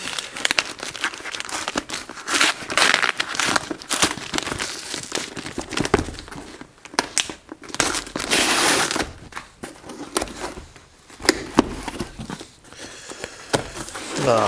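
A parcel sent from America holding a book is torn open, with loud, close paper and packaging crinkling, crushing and tearing running throughout in busy bursts, no talk.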